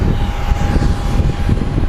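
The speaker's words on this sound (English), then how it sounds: "The San Jose Southwest is coming in right now." A Southwest airliner from San Jose lands at Phoenix Sky Harbor International Airport, a loud, steady engine roar with a broad rumble and a faint whine, heard alone.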